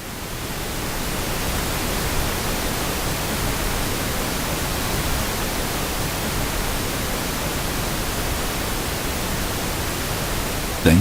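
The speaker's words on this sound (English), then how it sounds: "The pink noise tracks are great to check if the speakers or speaker stacks sound roughly the same tonally." A pink noise test track plays through PA speakers, a steady, even broadband hiss lasting about eleven seconds, cut off at the end by a brief click.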